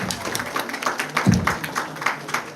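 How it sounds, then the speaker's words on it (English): A school debate audience applauds, with moderate scattered clapping from a crowd and some mixed voices underneath. "Please give them a huge round of applause."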